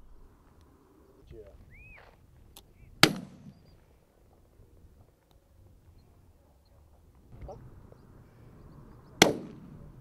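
Two sharp, distant shotgun reports on a driven grouse moor at Farndale Moor, about six seconds apart, each a sudden crack with a short tail in quiet open air. Faint bird calls and rustling fill the gaps between them.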